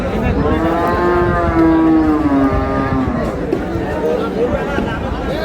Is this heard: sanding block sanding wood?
no